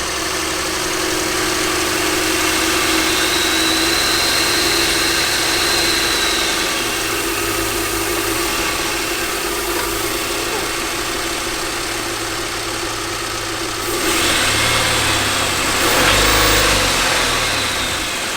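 A totaled car with broken motor mounts starts and settles into a steady, rough idle close by, with a brief rev rising near the end and no talk over the running engine.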